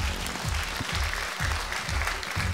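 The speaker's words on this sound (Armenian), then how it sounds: "Դավիթ Չախալյան, եւս մեկ անգամ ծափահարենք եւ ճանապարհենք" Studio audience at an X-Factor Armenia gala show claps steadily in a dense, continuous burst of applause, loud and sustained throughout with no voices over it.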